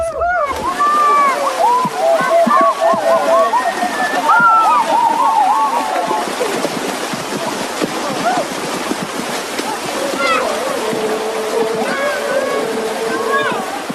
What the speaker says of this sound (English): After the meeting, the men head for a small river on the other side of the village to bathe.